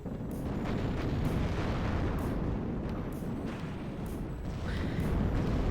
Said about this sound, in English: Getting shot at from every side.